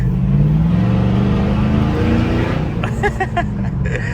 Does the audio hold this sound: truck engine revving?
yes